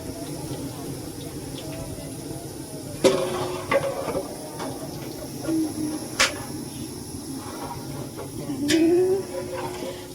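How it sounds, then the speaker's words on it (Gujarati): Spices are tempered in hot oil for dal, giving a steady, close sizzling hiss that runs throughout, with a few brief clinks and short louder bursts of spattering. "ચાલો તમને બતાવું વઘાર કરું"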